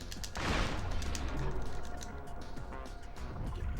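Sustained machine gun fire in The Matrix: Path of Neo, a dense, rapid rattle of shots that swells early and keeps up steadily against a loud battle backdrop.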